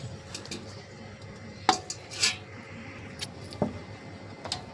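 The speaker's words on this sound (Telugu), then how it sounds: "ఇప్పుడైతే నేను ఈ కాయనైతే శుభ్రంగా కడిగి మీకైతే కోసి చూపిస్తానండి" A knife cuts a Mogalthur mango into pieces, giving a few scattered light clicks and scrapes against a plate or board over quiet room noise, with no speech.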